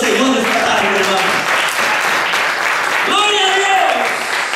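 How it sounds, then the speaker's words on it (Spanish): A church congregation claps at an evening service, loud continuous applause mixed with voices calling out over it throughout. "Démosle un aplauso al Señor esta tarde, hermano."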